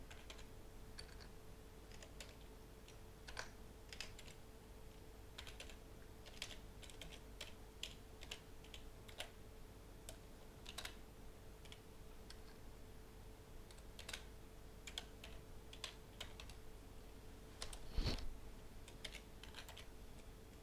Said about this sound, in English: We need to type our email and retype it.